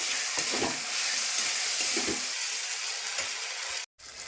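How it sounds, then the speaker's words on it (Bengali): Chopped tomato frying in hot oil with turmeric, giving a steady broadband sizzle with a few soft stirring clicks, close and even, then a brief dropout near the end. "দিয়ে দিচ্ছি টমেটো কুচি, একটা টমেটো দিয়েছি।"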